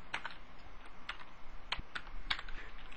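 Keys on a computer keyboard typed in a short, uneven burst while entering a name or number into Google Voice, a few crisp, close clicks over faint background hiss.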